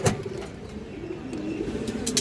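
A Beji female pigeon coos in a low, steady murmur close by, with a sharp knock at the start and faint clicks near the end.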